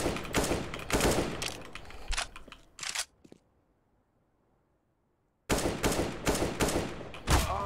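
Video-game gunfire comes in loud rapid bursts of automatic shots, stopping for a stretch of near silence before another volley resumes at close range.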